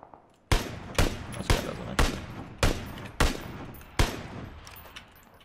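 Seven evenly spaced, loud gunshots in PUBG, roughly one every half second, each sharp crack trailing into a short echo, with no talk over them.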